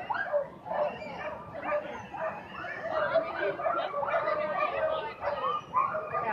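Iditarod sled dogs at the ceremonial start yip, whimper and bark in a busy, excited chorus, close and continuous with overlapping high cries and no clear talk.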